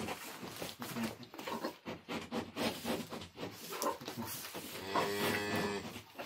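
Cows lowing and shuffling close by on a farm, a continuous mix of low moos and animal movement with no clear talking.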